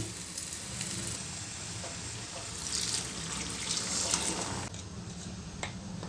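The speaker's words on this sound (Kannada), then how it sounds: "ಇನ್ನೂ ಸ್ವಲ್ಪ ನೀರು ಹಾಕ್ತೀನಿ" Water runs and splashes into a sizzling pan of gram flour batter, a steady hiss of pouring with kitchen clatter, close and moderately loud throughout.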